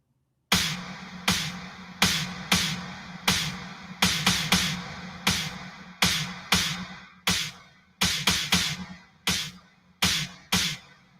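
An 80s-style gated-reverb snare drum produced in Ableton Live 11 strikes repeatedly in a steady groove. Each punchy hit carries a burst of bright reverb that cuts off abruptly.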